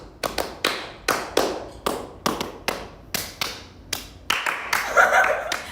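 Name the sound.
hand clapping intro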